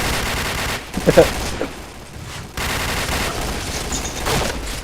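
Video game gunfire shooting at an enemy, a short burst of rapid shots near the start followed by a steady busy stream of game sound, with a voice speaking faintly underneath.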